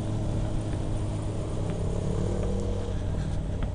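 Motorcycle engine fitted with an Akrapovic exhaust, a steady low rumble running close by throughout, with no clear revs or voices over it.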